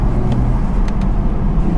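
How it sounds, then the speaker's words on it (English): A modified BMW M240i accelerates hard, its engine giving a steady loud rumbling roar heard from inside the car with road noise underneath. "But the moment you've cleared that gear, this just pulls and pulls and pulls."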